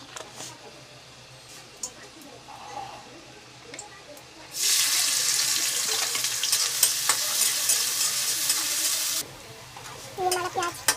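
Onions and spices for chole fry in a pan, starting with quiet stirring, then a loud steady sizzle for several seconds before it settles back to soft clinks and stirring.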